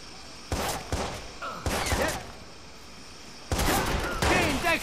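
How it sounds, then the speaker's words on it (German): Gunfire aimed at the player in Watch Dogs: several sharp, loud bursts of shots arrive in clusters with short pauses, and a voice talks between and over them. "Auf mich wird gerade geschossen."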